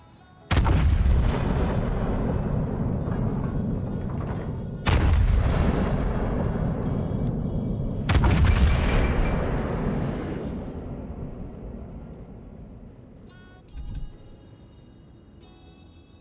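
Explosions in World of Warships as a ship is detonated: three huge booms a few seconds apart, each decaying into a long rumble, followed by quieter game effects.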